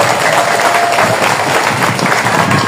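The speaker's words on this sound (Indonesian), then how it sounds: "Tepuk tangan dulu bapak-bapak." A gathering of men at a Maulid religious lecture in East Kalimantan gives a round of loud, steady clapping that stays even throughout.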